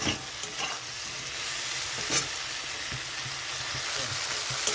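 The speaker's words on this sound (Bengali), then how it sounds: "ভালো মতো একটু কষিয়ে নিতে হবে" Boiled eggplant and potato fry and get stirred in a pan with a constant soft sizzle, broken by a few light scrapes of the spoon, with no talking.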